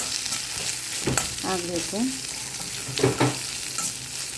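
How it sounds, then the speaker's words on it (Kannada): Mutton pieces fry in coconut oil in a pan, a steady sizzle broken by a few sharp scrapes and clinks of a spoon stirring, close and moderately loud with no talking. "ತೆಂಗಿನ ಎಣ್ಣೆಯಲ್ಲಿ ಫ್ರೈ ಮಾಡಿದ್ರೆ ತುಂಬ ಚೆನ್ನಾಗಾಗುತ್ತೆ"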